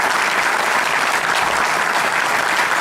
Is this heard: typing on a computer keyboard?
no